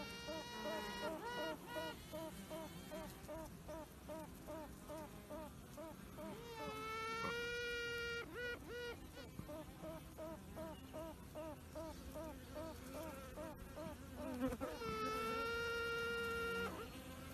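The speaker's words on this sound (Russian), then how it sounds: "задача матки, которая вышла, издавать такие звуки, на нее откликаются матки у маточников еще" Queen honeybee piping from a hive: repeated long, pulsing toots in a series, answered by quacking queens still in their cells, with steady buzzing of workers throughout and no talking.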